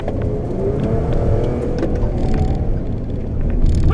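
A 2020 Ford Police Interceptor engine pulls hard under acceleration, a loud, steady low rumble and whir with road noise that holds close throughout.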